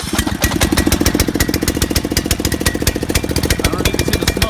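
A Snapper riding mower's 12.5hp Briggs and Stratton engine runs rough and close, a loud uneven chugging pulse with irregular popping beats throughout.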